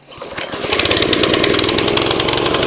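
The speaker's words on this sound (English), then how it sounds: "let me go ahead and start it up for you guys so you can hear the surging" The small Honda GX160 gas engine of a Tru-Cut C-25 reel mower with a surging fault catches after a brief pull and settles into a loud, steady, buzzing run close by.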